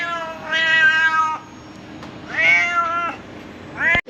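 A cat in a hotel in Hatyai meows loudly and close by in three drawn-out, harmonic calls, with a short pause between the first two and a brief cry at the end.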